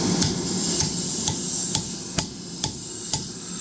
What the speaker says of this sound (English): so that I can take my chisel and cut it through